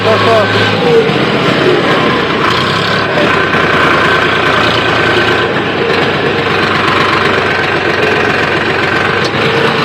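A tractor engine laboring in low gear while hauling a trolley loaded with soil for field leveling, a steady loud rumbling drone with knocking vibration throughout, close by and continuous.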